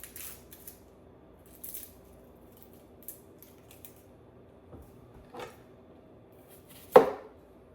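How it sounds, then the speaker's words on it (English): A knife slices half of a vegetable on a cutting board: a few soft, scattered cuts, then one sharp, loud knock near the end, with quiet room tone between strokes. "So we're gonna thinly slice this half of it."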